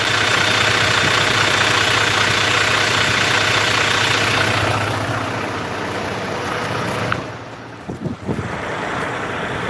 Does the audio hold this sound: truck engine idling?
yes